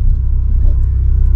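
Car engine with a steady, low, rumbling idle that swells gently as the driver releases the clutch and eases on the throttle during a hill start. The engine is close and continuous, and no one speaks.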